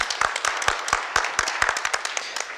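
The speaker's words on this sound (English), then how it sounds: "I think Mia should stand up and get applause." A seated audience at a wood design talk in Stockholm claps for the exhibition designer, crisp individual hand claps close by, irregular and moderately dense, easing off toward the end.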